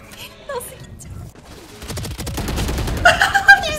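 Video game gunfire cracking in quick bursts, sparse at first and then a dense rattling volley that grows louder, with faint bird-like chirps early on.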